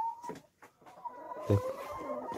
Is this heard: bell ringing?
no